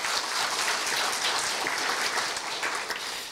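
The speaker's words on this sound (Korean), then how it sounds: "동의하신다면 큰 박수 부탁드립니다." A crowd at a Korea University staff retirement ceremony breaks into big, steady applause, a thick and even roar of many hands clapping that holds at full strength throughout.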